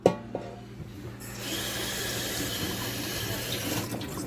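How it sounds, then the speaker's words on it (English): Water runs steadily into the bottom of a roasting pan for gravy, a continuous close splashing pour after a brief clatter at the start, with no talking. "Maybe add a little bit of water into the bottom of the pot. Or the bottom of the roasting pan there."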